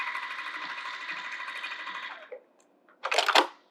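A sewing machine stitches the outer edge of a fabric bag at a quarter-inch seam, running in a steady close whir for about two seconds, then stopping, followed by a brief burst of rattling as the work is handled.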